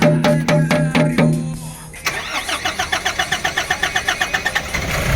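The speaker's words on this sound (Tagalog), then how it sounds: "Yan andar na makina!" A Nissan NV350 van's YD25 diesel engine, previously refusing to start, cranks in several rhythmic pulses, catches, then settles into a loud, close, clattering idle.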